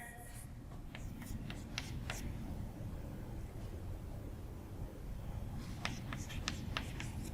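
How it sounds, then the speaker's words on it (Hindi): Marker or chalk writing on a board during a chemistry lecture gives short scratchy strokes in two bursts over a steady room hiss, faint and without talk. "कुछ बातें और लिखते हैं।"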